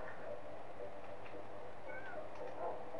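A cat in the Minecraft video game gives a couple of faint, short meows over a quiet background, with voices talking softly nearby.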